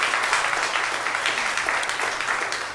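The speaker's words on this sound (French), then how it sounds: "un gros applaudissement pour nous, s'il vous plaît." A church congregation gives steady, dense applause, the clapping sustained at an even level from start to finish without breaks.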